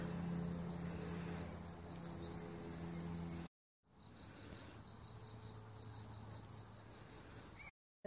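Steady high crickets and other insects trill continuously on a countryside walk near Pont-la-Ville, with a short break in the middle.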